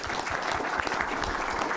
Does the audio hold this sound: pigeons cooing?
no